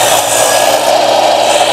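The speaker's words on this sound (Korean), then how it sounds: "트리거를 누르신 상태에서 절단을 하고 자르고 나서 여기서 바로 놓지 마시고" An 8-inch sliding miter saw cuts through a workpiece, its motor giving a loud, steady, high-pitched whine that lasts the whole brief moment without pause.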